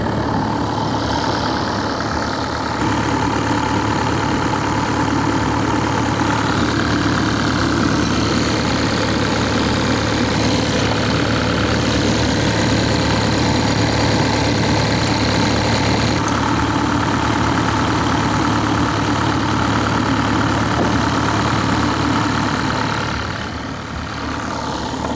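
A mini excavator on a house demolition site idles loudly and steadily at close range, a constant engine rumble with a slight shift in tone midway and no talking.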